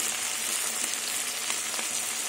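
Water poured into a frying pan of sizzling ginger with a pinch of salt, giving a steady, close hiss and crackle of hot oil and steam that holds level throughout with no voices.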